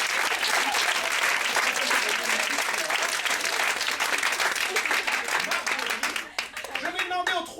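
An audience at an improv show applauds a volunteer with dense, sustained clapping that fills the room, then thins out near the end as a voice begins speaking.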